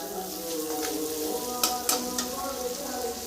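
Spices sizzle in hot oil for chana dal, a steady crackling fry with a few sharp clicks of stirring breaking through.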